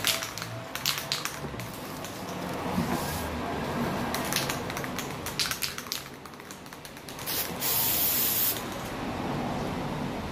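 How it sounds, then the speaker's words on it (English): An aerosol can sprays gold paint onto pine cones for a Christmas wreath in sharp hissing bursts, some short and some longer, close to the listener. Clicks from the nozzle and light tapping fall between the bursts. "we're going to spray the cone in gold"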